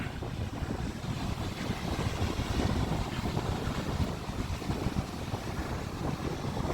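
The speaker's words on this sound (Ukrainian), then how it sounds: "Сьогодні трошки штурмова погода і відчутно такий досить сильний прохолодний вітер." Strong cool wind buffeting the microphone at a stormy ocean beach at Lagoa de Albufeira in Portugal, with big waves roaring beneath in a continuous loud rush.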